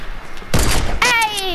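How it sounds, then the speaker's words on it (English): Gunfire in the Fortnite video game comes as a couple of sharp, loud bursts in quick succession, the second followed by a ringing tonal tail, with talking heard around it. "I'm trying to just do some trick shots."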